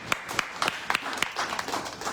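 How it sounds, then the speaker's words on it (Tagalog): A church congregation claps together at a worship service, a burst of scattered, uneven handclaps at moderate distance with no voices. "Palakpak ko natin ang Lord."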